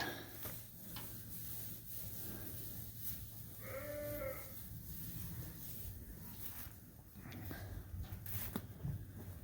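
Sheep and lambs in a busy lambing barn, a short bleat rising above a steady low barn hum and rustling, fairly faint and close.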